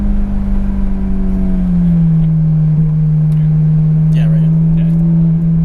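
A Ferrari F430 Scuderia with a six-speed manual gearbox drones loudly and steadily from inside the cabin, its pitch easing down and settling as it is driven, while a voice speaks briefly over it.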